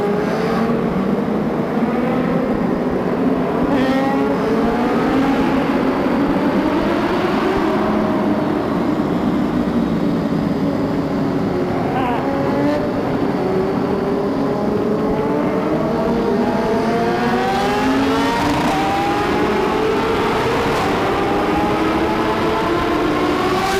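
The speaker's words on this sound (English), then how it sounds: "I'm gonna try to wheelie through the tunnel." A sport motorcycle wheelies through a tunnel, its engine loud and continuous with revs climbing and falling, echoing around the rider from start to finish.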